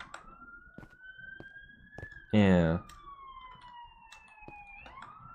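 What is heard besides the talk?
ambulance siren passing outside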